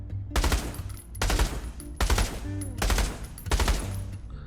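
Three-round bursts of gunfire from a rifle in Counter-Strike 2 played in virtual reality, four loud, sharp bursts spaced about a second apart, close to the player.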